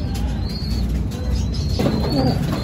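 Pigeons returned from a release at Urdaneta, Pangasinan coo and flap their wings close by, with soft chirps and a burst of flapping in the second half.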